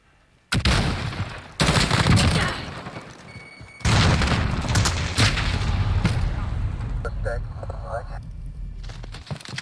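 Stun grenade in Call of Duty Modern Warfare: several loud, close bangs and bursts amid ongoing gunfire, sharp onsets followed by dense crackling noise, with voices talking over the action.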